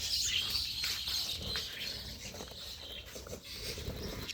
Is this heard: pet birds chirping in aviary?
yes